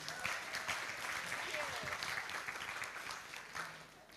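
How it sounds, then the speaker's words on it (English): Audience applause following a university guest lecture and cultural exchange, a steady burst of clapping from a sizable crowd lasting about four seconds, fairly loud and even throughout with a slight fade at the end. "give them a round of applause"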